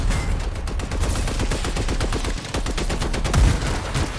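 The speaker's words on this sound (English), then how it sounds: "Fuck off with your sniper rifle" Rapid, loud bursts of sniper rifle and automatic gunfire in the video game Anthem, dense repeated shots with heavier blasts near the end.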